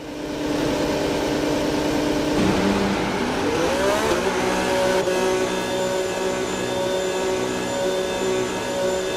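Red Bull RB22 Formula 1 car in F1 26 pulling out, its engine note holding a steady high whine, then sweeping sharply upward as it accelerates and settling into a sustained loud drone.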